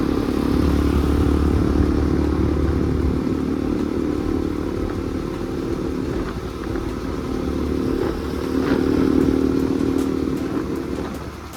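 A motorcycle on the road gives a continuous low engine drone with wind rush and some road clatter, loud and close throughout.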